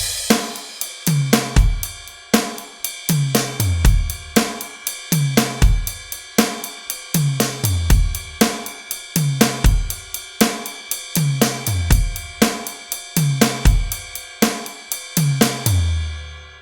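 A drum kit plays a steady, repeating groove: punchy kick and snare hits under a constant shimmering ride cymbal, loud and close, ringing out at the end.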